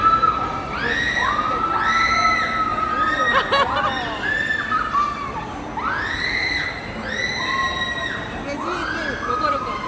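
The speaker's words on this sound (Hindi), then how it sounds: "ये आप इनकी चीखों की आवाज़ें सुन रहे हैं" Many people shriek and scream in rising and falling waves on an amusement park ride at a night fair, loud and sustained, with crowd noise underneath.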